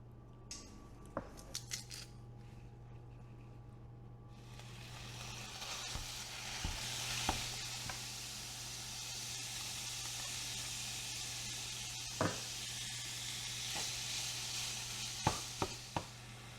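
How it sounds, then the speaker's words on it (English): Ground beef browns in a pan on the stove, a soft continuous sizzle with occasional clicks and scrapes of a utensil, faint and close with no voices. "we're going to brown this ground beef up, add our veggies, our garlic, our seasonings"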